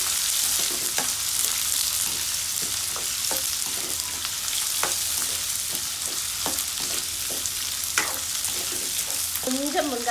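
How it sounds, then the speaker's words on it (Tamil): Two and a half chopped onions sauté in hot oil for a tomato-onion chutney, giving a steady, close sizzle throughout with scattered clicks and scrapes of a spoon stirring the pan. "நல்லா வதங்கட்டும் வெங்காயம்."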